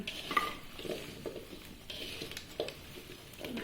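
Oily mango pickle pieces being stirred and turned by hand in a pan or bowl, giving soft, wet, squelching sounds and faint clinks of metal at an even, close, gentle pace.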